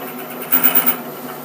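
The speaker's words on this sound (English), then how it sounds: "that looks to be our point where we're cutting full width of the cutter" A milling machine cuts a Woodruff keyseat with the cutter engaged across its full width, giving a steady mechanical whir that swells briefly louder midway through.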